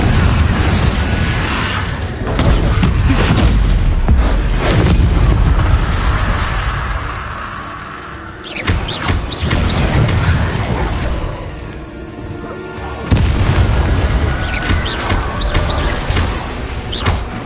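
Repeated fiery blasts from the Confringo spell in Hogwarts Legacy, loud booming explosions with crackling debris, coming in dense waves with brief lulls between them, no talk over them.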